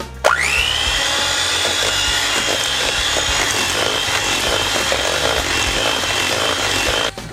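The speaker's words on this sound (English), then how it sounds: "After just beating up the eggs, I'm going to keep whirling it up." An electric mixer beats eggs into butter and sugar for oatmeal raisin cookie dough, a loud steady high whine that revs up sharply at the start and holds constant, close by, with no talk.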